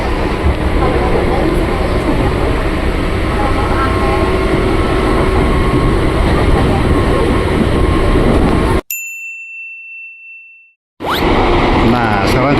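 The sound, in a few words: KRL commuter train, JRS 205 series, running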